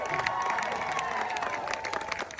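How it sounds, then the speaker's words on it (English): A crowd claps and cheers continuously for world champions, with scattered shouts and whoops rising above sustained applause throughout. "How about a round of applause to our world champion, Tamato Alea"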